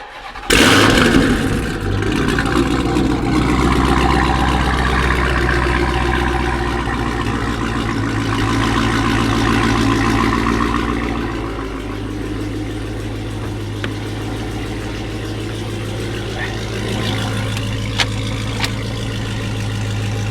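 A Dodge Charger Hellcat with its catalytic converters removed starts by remote, a sharp crank and loud roar settling into a deep, rumbling idle that drops to a steadier lower note partway through, close and continuous with no talking.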